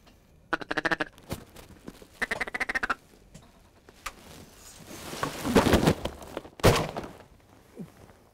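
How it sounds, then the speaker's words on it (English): Ducks quack in loud, close bursts during a Nebraska waterfowl hunt, followed by a rushing flurry of wing beats and a heavy thump, all outdoors without talking. "Guys, wing beats."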